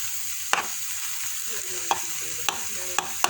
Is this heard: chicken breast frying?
yes